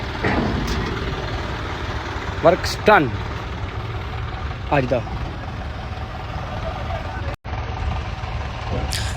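A steady low tractor engine idle rumbles throughout, with a few short voices speaking over it.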